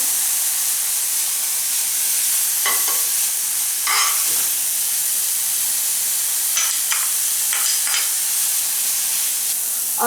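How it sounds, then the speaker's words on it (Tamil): Grated beetroot roasting in ghee in a pan, a bright continuous sizzle and hiss with a few sharper scraping stirs, close and fairly loud, no voices. "நம்ம இந்த பீட்ரூட் வந்து நெய்யில் வறுக்கும்போது இது தீஞ்சிடக்கூடாது"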